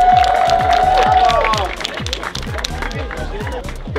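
A crowd claps and cheers at a drifting championship event, with a loud announcer's voice over the applause and a hissing, whining car sound early on, then steady clapping continuing.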